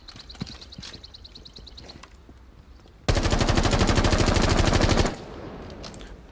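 Automatic rifle fire in the video game Rainbow Six Siege, with Thatcher's weapon: one loud, sustained burst of rapid shots lasting about two seconds, preceded by faint rhythmic ticking and quieter clicks, with no talking.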